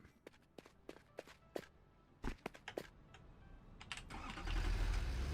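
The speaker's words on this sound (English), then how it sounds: "Just feel like driving my little car." A small vehicle's engine starts up in the factory-building game Satisfactory, a rising mechanical roar swelling after a few sharp clicks and footsteps, fairly quiet overall.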